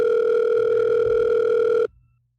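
A steady telephone dial tone from a phone in a Doki Doki Literature Club mod game hums loud and unbroken for nearly two seconds, then cuts off abruptly into silence.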